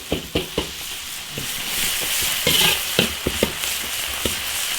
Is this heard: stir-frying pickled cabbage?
yes